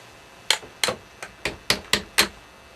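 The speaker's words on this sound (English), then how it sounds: "Hammering it won't set it off." A stick of dynamite being struck with a hammer, seven sharp, clear blows in an irregular rhythm, close and alone with no talking.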